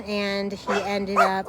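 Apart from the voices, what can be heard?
dogs barking outside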